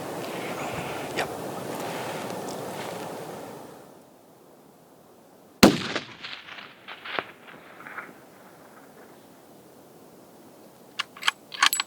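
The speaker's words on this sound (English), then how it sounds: "He's going to shoot him." A hunting rifle fires a single sharp, loud shot at a red stag in New Zealand public wilderness. Wind rustles beforehand, and the shot rings out and decays, followed by a few faint knocks.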